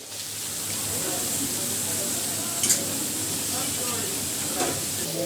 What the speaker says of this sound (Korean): 저 냄비에서 고기가 볶아지는 소리가 저렇게 볶아지는 소리가